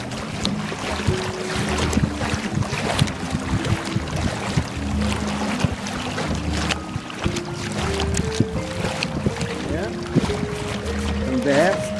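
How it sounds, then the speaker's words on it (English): Waves slap and churn around a small motorboat out on the water, wind buffeting the microphone over an irregular close wash of splashes, with a voice speaking over it at times. "Probably hear the waves kicking up here"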